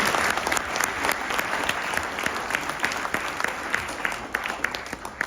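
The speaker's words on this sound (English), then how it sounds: "So Let's give it a round of applause here." Audience applause at a medical device conference keynote and demo, a steady round of dense clapping from a crowd that holds for several seconds, fairly close and unbroken.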